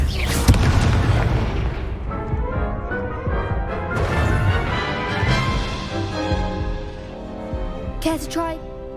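Fringo spell cast in a Harry Potter video game: a loud burst of impact and crash energy with booming, crackling layers sustained across the clip, ending in a brief bright shimmer.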